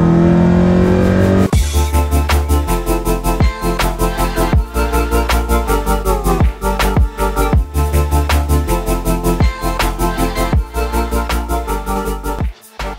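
A Volkswagen MK1 with a 272 camshaft, its engine loud and close with a choppy, pulsing lumpy idle broken by repeated rev blips that fall back down.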